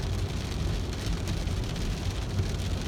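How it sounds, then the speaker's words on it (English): Rain droplets hitting the ground, a dense steady hiss of falling rain close to the microphone, continuous and even throughout with no voices. "now you can actually see the droplets hitting the ground"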